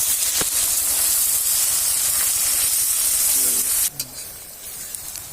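Onions hit hot oil for a chicken curry, setting off a loud, steady hissing sizzle that cuts off abruptly near the end, leaving a few faint clinks and a softer background hiss.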